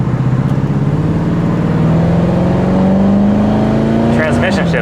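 A 1968 Ford Mustang's engine pulls loudly and steadily, its pitch climbing under acceleration before dropping sharply at a gear change near the end.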